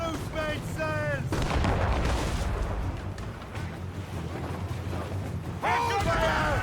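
Broadside of ship cannons in Assassin's Creed Rogue, a dense rumbling barrage of booming shots rolling on for several seconds over sea and battle noise, with shouted voices at the start and end.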